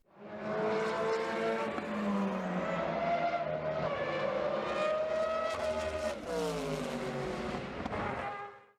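Roaring Group C prototype race car engines of around 800 horsepower scream at high revs for several seconds, pitch rising and falling through gear changes, loud and continuous with a brief tire squeal.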